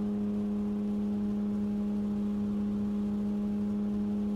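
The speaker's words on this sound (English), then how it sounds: "it sounds like I'm revving the absolute nuts out of it" A vehicle engine in the video game No One Survived drones at a constant high revving pitch, a steady, unchanging whine and hum with no talking.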